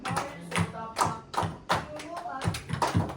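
A teacher claps a repeated rhythmic pattern during a music lesson, with sharp, close hand claps in short groups and voices murmuring underneath.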